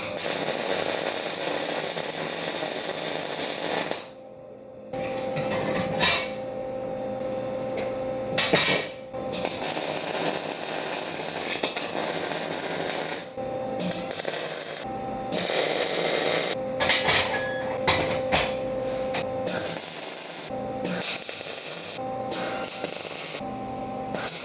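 An automatic wire-feed welder joins crucible tongs with a loud, close, continuous crackling hiss. The welding runs in long stretches broken by brief pauses when the arc stops, and no voices are heard.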